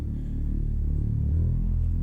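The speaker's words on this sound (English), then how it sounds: "this break bass is made in the stock Logic synthesizer ES2" Deep break bass patch from Logic's stock ES2 synthesizer, a low throbbing rumbling line with shifting pitch, playing alone and fairly loud.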